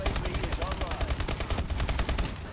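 Rapid machine-gun fire in a video game, a continuous fast stream of sharp close shots that cuts off just before the end.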